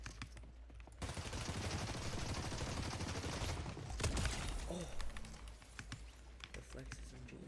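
Reflex SMG fire in the Fortnite video game, rapid automatic bursts rattling continuously under a loud, busy game mix with a player talking over it.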